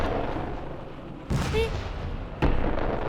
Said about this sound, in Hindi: मैंने बम गोलों की आवाज सुनी अभी